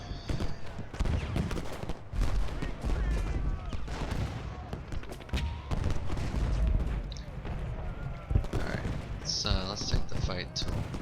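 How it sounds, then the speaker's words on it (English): Rifle and canister gunfire from a Civil War video game battle rattles in dense, overlapping volleys, with booming shots firing continuously from several directions and a voice talking over the din. "I got rifle fire coming from 3 directions."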